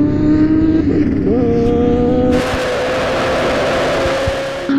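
A land-speed-record motorcycle roars close and loud on open salt flats, its engine pitch climbing through a gear shift and then holding a high, sustained drone as it blasts ahead.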